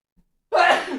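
A single human sneeze bursts out suddenly after a near-silent moment, breathy and loud, fading over half a second with no talk around it.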